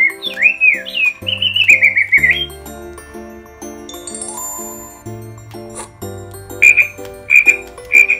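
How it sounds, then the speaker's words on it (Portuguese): Cartoon frog croaks and chirpy calls in a children's penguin app game, repeated short croaking bursts over bouncy looping music, close and clear with no voices. "E agora um sapo."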